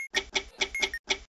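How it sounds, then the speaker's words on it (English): A bomb timer in the video game Keep Talking and Nobody Explodes ticks five times in quick, evenly spaced electronic beeps, clear and isolated with no voices. "Oh, that's your timer."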